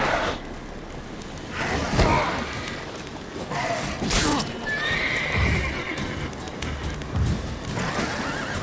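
Roach, a horse in The Witcher 3, whinnies loudly around the middle over steady galloping hoofbeats, with game ambience and occasional rustles throughout.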